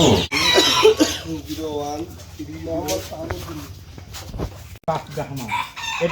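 Roosters crow and chickens cluck on a fancy chicken farm, with several loud, drawn-out calls rising over a busy background while people talk nearby throughout.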